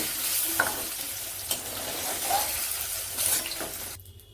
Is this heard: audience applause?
no